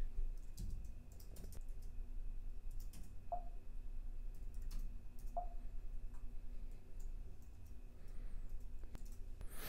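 Keys on a computer keyboard are tapped in short scattered bursts, faint and fairly close, over a low steady background hum.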